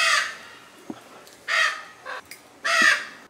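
Macaws call at Parque das Aves, a bird park, giving three loud, harsh, rasping squawks spaced about a second apart, close by, with softer short squawks between them.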